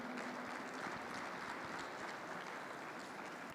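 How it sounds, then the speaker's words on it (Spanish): Audience applause at a conference, a broad steady wash of clapping from a crowd, sustained and even throughout at moderate distance. "Un aplauso, por favor, a mi buen amigo Lalo Medrano."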